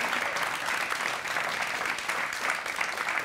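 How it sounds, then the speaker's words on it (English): A studio audience claps continuously, a dense, even wash of applause from a crowd that fills the whole moment without a break. "I believe that deserves a round of applause"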